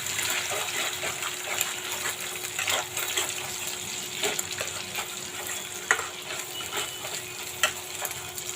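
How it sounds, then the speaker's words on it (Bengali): An egg fries with browned onions in a pan while noodles are being made, giving a steady, fairly quiet hiss dotted with small crackles and pops throughout. "আমাদের ডিমটা ভাজা হয়ে গেছে।"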